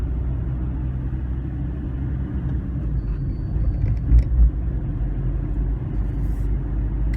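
Inside a moving Hyundai i20 diesel car, a steady low engine drone and road rumble fill the cabin at constant volume, with a couple of faint bumps and no talk.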